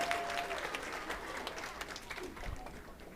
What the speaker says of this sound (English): Give your wait staff a big round of applause